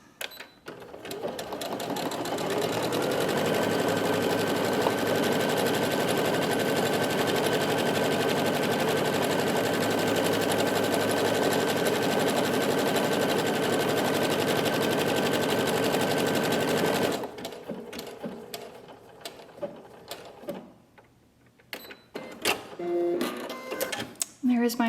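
A sewing machine runs steadily while stitching a buttonhole, a dense continuous mechanical whir lasting about seventeen seconds before stopping abruptly, followed by quieter handling noises.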